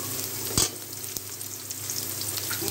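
Onions sizzling gently in a pan for mola fish chorchori with eggplant, a soft steady fry with one brief stir or clink near the start.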